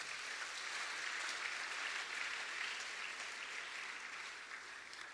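A church congregation applauds and cheers during a French-language sermon, producing steady, dense clapping throughout that eases slightly near the end.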